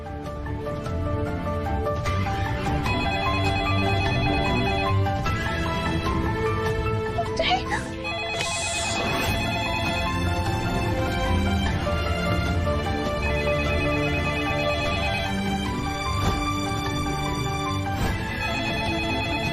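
A mobile phone ringtone plays a repeating melodic ring during a call in a Hindi TV drama scene, loud and continuous over background music, with a brief swell partway through.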